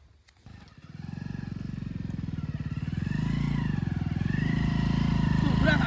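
A motorcycle engine starts up and runs with a steady, throbbing rumble that grows louder and fuller partway through, close by, with voices briefly audible over it.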